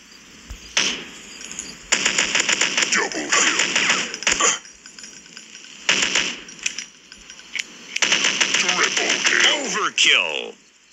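Rapid bursts of gunfire from a shooting video game come in several dense volleys separated by short gaps, loud and close, with a voice talking over parts of it.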